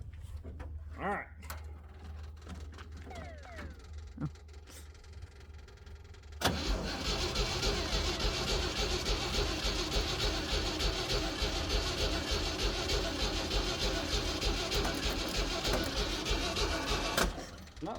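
After a few quiet seconds with faint clicks, a car engine with a weak battery cranks loudly and continuously for about eleven seconds without catching, then stops.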